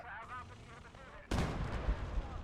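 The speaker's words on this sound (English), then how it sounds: "has his mortar back up, but it looks like he's actually out of ammo and just firing off some Willie Pete" A mortar firing white phosphorus rounds in the video game Gates of Hell: Ostfront, a sudden loud booming blast midway followed by rumbling reverberation, after quieter talk at the start.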